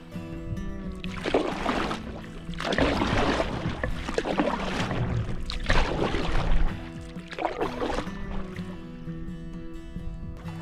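Paddle strokes pulling a small boat against a stream current, several splashing, swishing strokes in an irregular rhythm close by, with a faint steady hum underneath.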